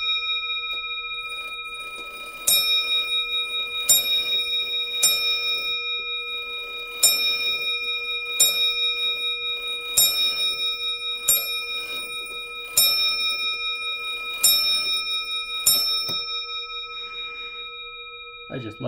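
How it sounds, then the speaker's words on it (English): An antique French lantern clock from the 1800s striking on its bell, about nine evenly spaced ringing strikes, each decaying with a long sustained tone, close and clear with a faint ticking between them. "If we start this chime train, we can hear that beautiful bell go."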